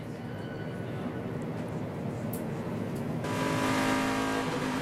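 NASCAR Nationwide Series stock cars racing at Nashville during the 2009 Federated Auto Parts 300, a steady roar of engines at mid distance that swells louder toward the end.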